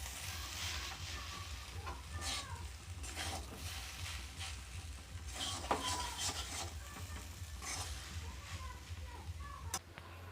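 Fried egg and chicken chowmein ingredients stirred together in a hot pan, continuous sizzle under repeated scraping and tossing strokes, close and fairly quiet throughout.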